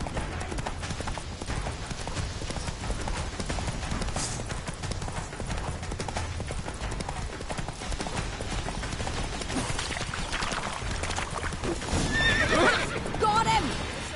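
Roach, a horse in The Witcher 3 game, gallops with a continuous rush of hoofbeats and lets out a loud neigh near the end, all under game music and character talk.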